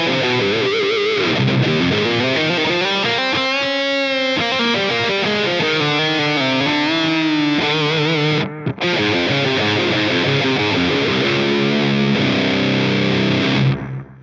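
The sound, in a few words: electric guitar through Line 6 POD GO analog echo delay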